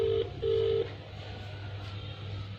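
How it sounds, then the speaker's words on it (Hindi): An outgoing phone call rings on the line: two steady electronic ringback tone bursts, the second longer, over a constant low hum, then line noise with no talk. "तो इनका नंबर मैं फ़ोन करती हूँ"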